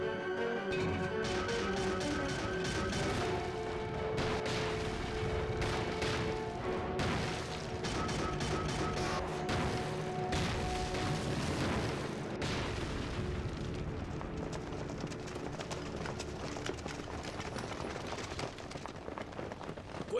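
Japanese shelling in a war drama brings dense, continuous booming explosions and gunfire, heavy and rumbling, layered under a tonal score with no clear talk.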